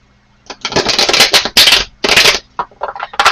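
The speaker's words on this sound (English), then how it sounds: "I lost count of my shuffle here." Tarot cards are shuffled by hand in several loud, close riffling bursts separated by brief pauses, ending with a few lighter taps and flicks.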